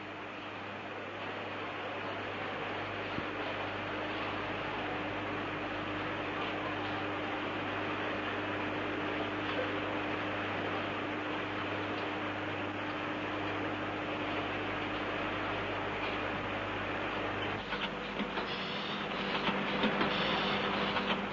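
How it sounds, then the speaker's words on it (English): An automatic machine in the Mullard valve factory at Blackburn cuts and shapes valve heaters, giving a continuous mechanical whirr and hum that holds steady before a brief shift in texture near the end. "a machine has been developed which not only automatically cuts and shapes the heaters, but also carries out the operations of coating and glowing"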